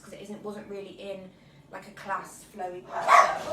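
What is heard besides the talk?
dog barking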